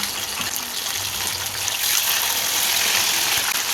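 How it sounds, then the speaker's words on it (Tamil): Chicken pieces fry in hot oil in a kadai, making a dense, steady sizzling hiss that grows slightly louder midway and continues without talk. "எண்ணெய் நல்லா சூடாகிட்டு இது ஒன்று ஒன்றா போட்டு பொறிச்சு எடுத்துக்கலாம்"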